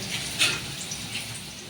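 Tap water runs steadily into a kitchen sink while vegetables are washed, a soft, continuous splash with one brief brighter burst near the start.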